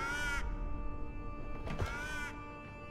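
Crows caw in the video game The Foretold: Westmark Legacy, a harsh harmonic call at the start and another burst of caws in the middle, clear and fairly close over a steady game background hum.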